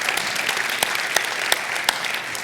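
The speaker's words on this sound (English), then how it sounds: "Yeah, that's worth an applause, absolutely." An audience at an IPCC conference session on the EPCOR Stage applauds: a brief, steady burst of clapping with a few sharper claps standing out, fairly close and without talk.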